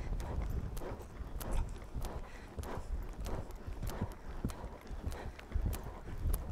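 A ridden horse walks through a schooling exercise, its hooves clip-clopping in a steady, close rhythm of distinct beats with no voice over them.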